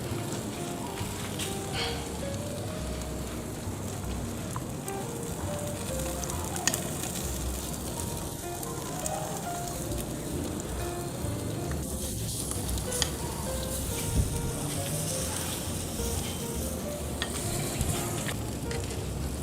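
Chicken inasal grills while basted with chicken oil, giving a dense, steady sizzle and crackle with scattered pops and spatters over nearly twenty seconds, close by and without speech.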